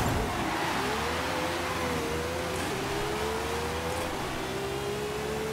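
Car launching off the line in a Forza Horizon 5 drag race, the engine roaring steadily upward through first gear with a brief dip near a shift, loud and close with no talk.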